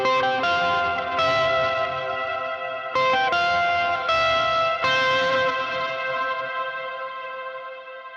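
Ambient electric guitar played through a reverb pedal on its darker setting, a few sustained chords with soft, shortened tails blooming and fading, no voice.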